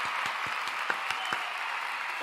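A small burst of crowd applause from a pro wrestling event, with quick scattered claps over a steady hiss of clapping, fairly distant and thin for a couple of seconds.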